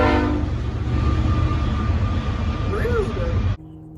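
A train rumbles loudly past close by, with a brief horn-like tone near the end before the noise cuts off abruptly.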